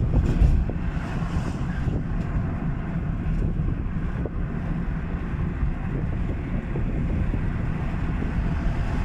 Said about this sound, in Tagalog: Kaya sorry naman kung naririnig nyo talaga yung hangin sa labas.